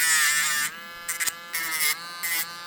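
A Dremel rotary tool sanding back cured resin around preserved memorial flowers, a steady high whine that stops and restarts in several short bursts, with no talking.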